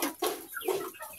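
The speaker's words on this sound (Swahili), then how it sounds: "Jogoo wamekuwa." Young roosters of a fast-growing breed, 72 days old, cluck on a farm in a few short, close calls, with no talk over them.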